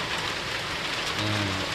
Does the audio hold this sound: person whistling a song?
no